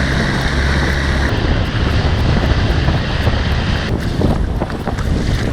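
Outboard motor on a boat out over a reef, running steadily with a low droning hum under heavy wind noise, with no talking.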